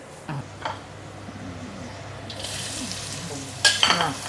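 Garlic hits a hot pan in a home kitchen, a soft steady sizzle that swells louder partway through, with a few clinks and stirring scrapes, one sharper burst near the end.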